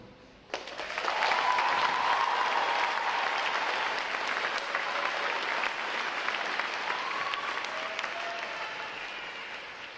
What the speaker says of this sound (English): Please join me in recognizing Division 938 and all of today's graduating divisions for their outstanding performance